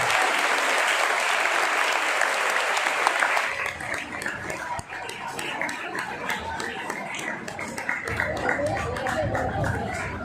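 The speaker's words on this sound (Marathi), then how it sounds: "माझं हे लेक्चर तुम्हाला जर आवडलं असेल तर जरा टाळ्या वाजवा." An audience at a school event applauds after an English-speaking lecture, a loud, sustained clapping that fills the space throughout.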